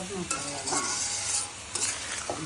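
Raw mango pickle with sugar fries in oil in a pan, a soft close sizzle broken by several quick scraping stirs against the pan.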